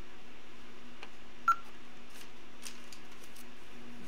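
An Ademco/Honeywell alarm keypad gives a single short beep during programming for a 5808 smoke detector, with a few faint key clicks over a steady electrical hum.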